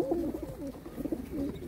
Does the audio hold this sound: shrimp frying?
no